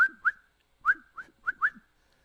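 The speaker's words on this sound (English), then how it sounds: "If you add a C, that means that you have a chirp" A chirping Morse code tone from an amateur radio transmitter with an unstable power supply: about six short beeps in an uneven pattern, each sliding in pitch at its start, clear and alone with no talk.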